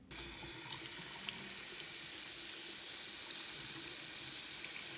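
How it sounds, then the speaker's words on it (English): Tap water runs steadily into a sink as a water-soluble embroidery stabilizer sticker is rinsed off a stitched design on stretchy fabric, a continuous close hiss with no talking. "it's time to rinse the sticker off of this design"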